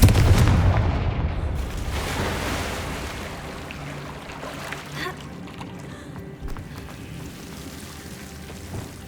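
A Confringo fire spell explodes in the video game Hogwarts Legacy on PS5, opening with a loud, deep blast that fades into a long rumbling tail with faint crackles.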